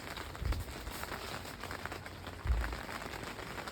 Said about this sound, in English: it's just a wee bit of rain just now